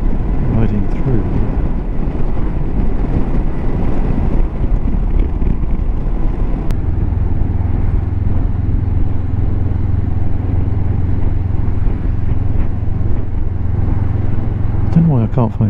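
A Honda CB500X motorcycle cruising through rolling hills on a road trip toward German towns, its steady engine hum buried under constant buffeting wind noise, with a deeper drone settling in partway through and a voice talking over it.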